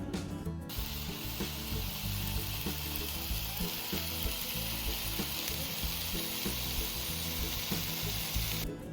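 Shrimp sizzle steadily on a hot Blackstone griddle, a loud, close, continuous frying hiss with light scraping and stirring clicks throughout, no voices.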